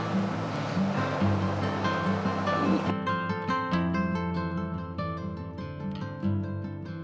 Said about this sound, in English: I hope you've enjoyed these first 2 waterfalls